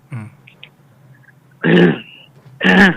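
A man imitates an elderly person's throat clearing: a short grunt, then two loud raspy hacks, close and separated by brief pauses.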